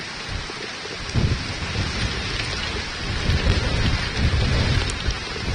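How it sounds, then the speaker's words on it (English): Heavy thunderstorm on Long Island, with rain pouring down in sheets, hail falling and thunder; a steady dense roar of rain with low rumbles swelling around one second and again near the three-to-five-second stretch, no voices. "Some lightning and thunder. You can see it coming down in sheets, very, very heavy."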